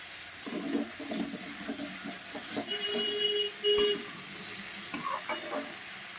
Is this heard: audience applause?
no